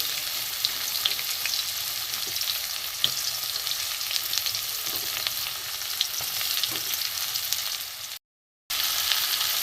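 Chopped onion fries in hot oil in a wok for an egg tarka, giving a loud, dense, continuous sizzle with faint stirring. A brief dropout of total silence comes near the end, and no one speaks.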